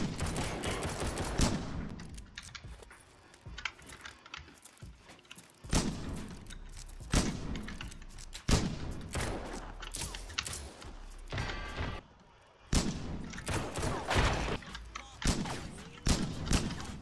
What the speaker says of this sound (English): How are you shooting through the wall?